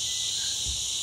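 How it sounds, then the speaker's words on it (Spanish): Cicadas in a Dominican Republic forest give a steady, loud, high-pitched continuous buzz that fills the whole clip with no break, with no talking over it. "Chicharras son incómodas, ese sonido es muy incómodo."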